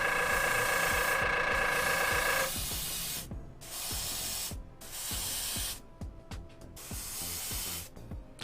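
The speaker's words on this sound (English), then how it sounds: "Writing my name with an airbrush because it's super fun." An airbrush sprays paint in long continuous hissing bursts, loud and close, with short pauses and pressure changes between strokes, and no talking.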